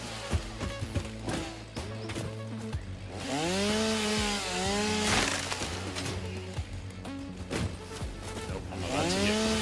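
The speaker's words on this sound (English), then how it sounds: "We've got the chainsaw. We're gonna clear some of this brush and see how it looks." A chainsaw in the video game Satisfactory cuts through brush, its engine revving and bending in pitch in repeated sweeps amid crackling splintering noise, loud and continuous with no talking.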